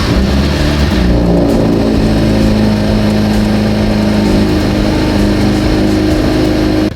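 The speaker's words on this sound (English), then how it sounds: "So the car is currently running" A Kia car engine idles steadily with a low, even hum and layered harmonic drone, close and constant with no talk, fading abruptly at the very end.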